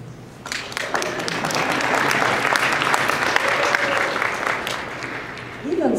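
Audience applause fills a convention panel room at Phoenix Comicon, a dense, sustained clapping from a large crowd that swells in after a moment and holds steady before tapering slightly at the end, with faint talk underneath.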